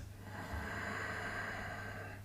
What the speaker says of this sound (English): inhale through the left nostril